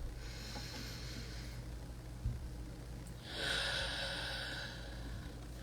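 A deep breath drawn in and let out close to the microphone: a long airy inhale, a brief pause, then a louder, rushing exhale, with no talk over it.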